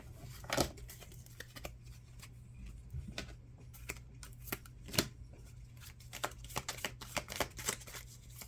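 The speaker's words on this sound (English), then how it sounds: "So we're doing 3 shuffles today." A deck of tarot cards being shuffled by hand, a run of crisp riffling flicks and soft slaps at uneven intervals over a low steady hum, with no talk.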